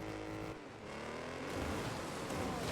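A race car's engine in the video game Wreckfest 2 roars and builds in pitch as it accelerates, steady and close for a few seconds with no voices over it.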